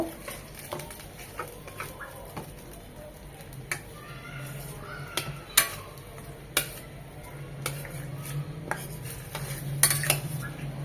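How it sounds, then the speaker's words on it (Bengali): Blended spinach paste is sautéed with spices in a pan, with repeated sharp spatula clinks and scrapes against the metal over a faint, low sizzle. "পালংটাকে খুব ভালোভাবে কষিয়ে নেব"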